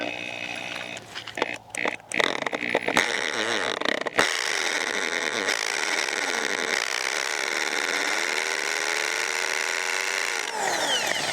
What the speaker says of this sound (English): usually Elijah is the person that handles the drill.